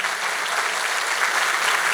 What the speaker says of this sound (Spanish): muy merecido aplauso